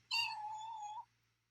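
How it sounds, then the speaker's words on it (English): A house cat lets out one drawn-out, clear meow close to the microphone, rising and then sliding down before stopping, with only a low steady hum behind it. "my cat is here."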